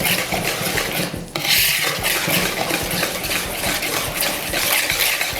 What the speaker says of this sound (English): now we are gonna whisk these two together once again